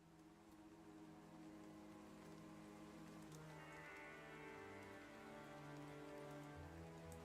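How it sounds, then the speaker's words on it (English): Steady rain patters softly in a background audio mix, a faint continuous hiss of drops under low sustained tones that shift slowly throughout. "I think this one has like rain in the background of it too."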